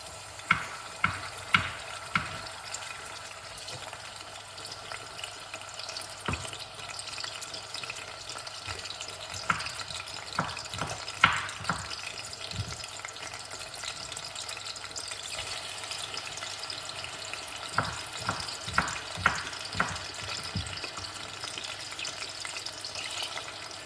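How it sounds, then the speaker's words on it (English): Tomatoes cooking in hot oil in a pan, a steady soft sizzle with occasional stirring clinks and scrapes, moderately close and without talk. "So what we're gonna do, we're gonna cook off some tomato."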